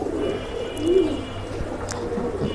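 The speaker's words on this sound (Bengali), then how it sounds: "বড় মাথার কবুতর কিন্তু তোতা শেপের কবুতর" A black-necked pigeon of an old breed coos close by, with one low rolling coo standing out in the middle over faint background noise.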